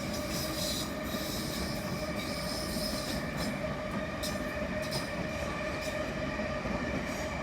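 A train at London Euston station squeals on its wheels, a continuous loud metallic screech with steady rail rumble underneath, no voices.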